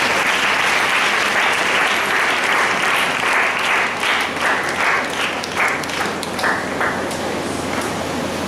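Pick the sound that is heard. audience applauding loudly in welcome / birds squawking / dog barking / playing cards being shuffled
audience applauding loudly in welcome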